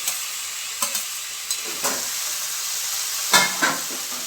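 Cabbage sizzles loudly in a hot pan, a constant bright frying hiss broken by several scraping stirs of a utensil against the pan.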